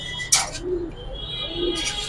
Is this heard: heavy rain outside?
no